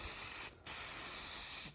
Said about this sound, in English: So I'm spraying the countertop again